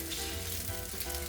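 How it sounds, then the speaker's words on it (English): Trader Joe's noodles pan fry without sauce, producing a dense, steady sizzle that fills the short moment at moderate loudness with no voices. "so I tried to see first if I could just pan fry them a little bit before adding the sauce"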